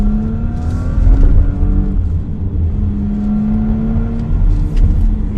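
A 2019 Porsche Cayenne S accelerating on an open road in Malaysia, a loud, steady engine drone rising slowly in pitch over road rumble, with no voices over it.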